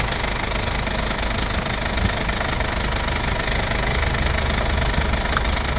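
A 2022 Mercedes-Benz Sprinter van engine idles steadily up close, an even low rumble with a faint mechanical knock running throughout.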